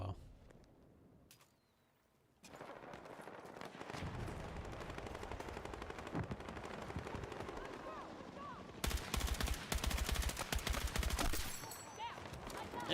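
Dense automatic gunfire from the Battlefield 6 video game, crackling rapid shots that build after a brief lull and grow louder and harsher toward the end, with a voice talking briefly.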